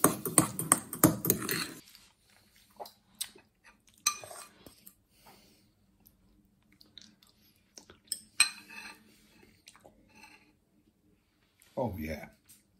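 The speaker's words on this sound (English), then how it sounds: "Now I'm going to add the wild garlic to a bowl with my now chilled labneh. Give it a good stir." Wild garlic is stirred into chilled labneh in a bowl: a burst of scraping and clinking from a utensil, then sparse light taps and clinks, and a final scrape near the end.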